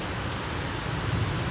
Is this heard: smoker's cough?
no